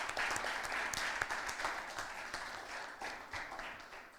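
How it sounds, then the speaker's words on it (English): An audience at a Caribbean inter-secondary school debate applauds the best debater with steady, sustained clapping from a crowd, fairly distant and even throughout. "Please join me in giving him a round of applause."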